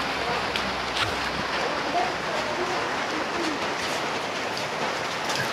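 Steady hiss of light rain falling across the whole clip, an even wash of fine drops with faint background sounds.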